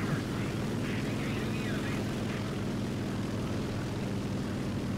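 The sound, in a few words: many aircraft flying over in War Thunder video game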